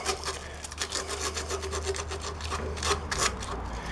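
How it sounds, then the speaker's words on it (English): Fine sandpaper rubbed across the magnets on the flywheel of a 1966 Briggs & Stratton small engine, a steady run of quick, scratchy back-and-forth strokes, close and fairly quiet, with no talking. "we're just going to run some fine sandpaper across the magnets on the flywheel"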